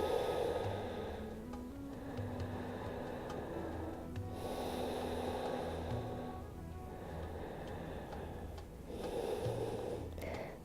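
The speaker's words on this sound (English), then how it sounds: "Breathe deeply." Slow, deep breaths drawn in and released through the nose during a back-care exercise, a few long audible inhales and exhales at close range with quiet pauses between.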